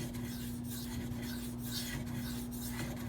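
A knife edge drawn across a smooth, fine-grit Venev diamond sharpening stone: soft, repeated scraping strokes in an even rhythm over a constant low electrical hum.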